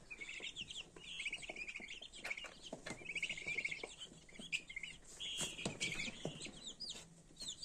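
Purebred Legbar chicks, hatched in an incubator from eggs brought from the Czech Republic, peep in a dense, continuous chorus of high chirps with occasional clucks from nearby poultry.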